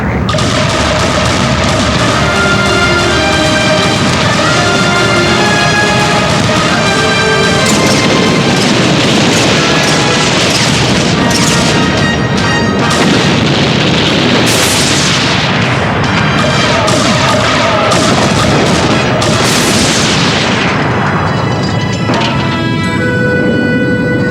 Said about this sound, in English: On my signal, commence firing.